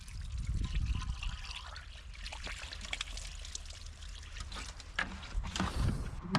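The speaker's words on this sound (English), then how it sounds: "Oh, even overfilled it. Yep, it's spilling out." Fuel spilling and dribbling out of an overfilled car tank, a continuous liquid trickle and splash up close with a few sharper drips and knocks, no talking.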